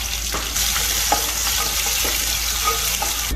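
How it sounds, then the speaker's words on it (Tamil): Steady, close sizzling of two chopped onions frying in hot oil for chicken thokku, with occasional soft stirring scrapes and no voices. "நல்லா பொரிஞ்சதுக்கு அப்புறம் நறுக்கி வச்சிருக்க 2 வெங்காயம் சேர்த்துக்கலாம்"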